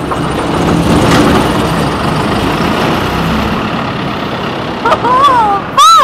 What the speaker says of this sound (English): I want to hear what a street sweeper sounds like when it's on.